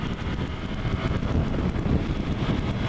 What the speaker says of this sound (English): No protection from the wind, and you're feeling it.